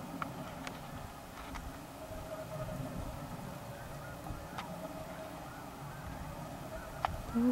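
Geese honk faintly in a field during an early October morning goose hunt in Saskatchewan, a few scattered distant calls rising over low outdoor rumble.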